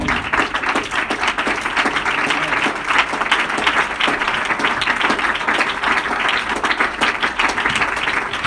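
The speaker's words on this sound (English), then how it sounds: "Let's clap our hands to the Lord." A church congregation claps hands together during an evening worship service, a dense, steady wash of many hands filling the space continuously with no pauses.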